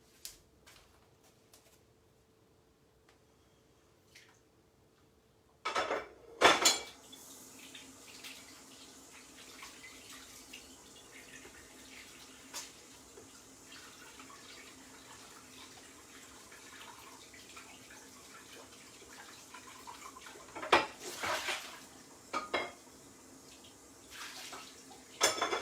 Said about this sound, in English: I'm going to dump this and wash my hands.